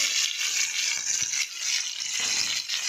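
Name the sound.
frying jackfruit and potato in oil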